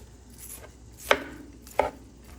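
Onions chopped on a cutting board with a knife, two sharp, separate chops close by against a quiet room.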